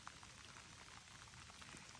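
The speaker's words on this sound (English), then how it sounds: "It is raining a lot." Heavy rain falling outdoors near a farm: a dense, steady wash of patter and small drop hits, fairly close and even throughout, with no voices.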